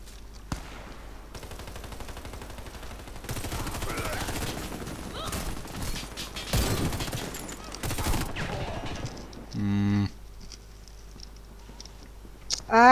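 Rapid video-game gunfire in bursts with broadband crackle, some sustained automatic fire, a brief stuck-gun pause, then a short mechanical reload clatter near the end.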